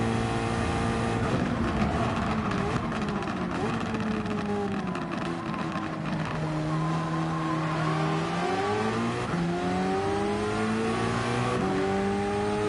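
Race car engines rev hard on a track, a loud continuous roar whose pitch climbs and drops through gear changes, with more than one engine droning together close by and no gaps.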